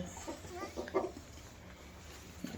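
Chickens on a farm, with turkeys kept nearby, give a few soft clucks and short calls at moderate distance over a steady low background hum, with no talking.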